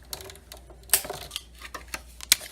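A die-cutting machine cranks stacked plates through to cut circles for a Stampin' Up card, giving soft mechanical ticks and clicks with a few sharper snaps, fairly close and otherwise quiet.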